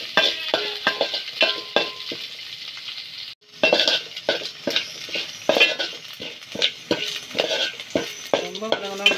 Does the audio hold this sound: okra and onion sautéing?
yes